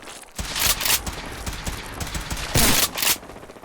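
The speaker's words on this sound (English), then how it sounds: "wonder which one of you assholes is shooting at me" Gunfire in a Fallout 4 firefight, with several loud bursts of shots at the start and a heavier volley about two-thirds of the way through, plus scattered rattling shots in between.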